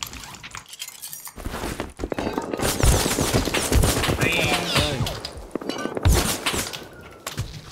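A Thompson submachine gun fires in a video game raid, with rapid automatic bursts and clinking impacts layered under a player talking.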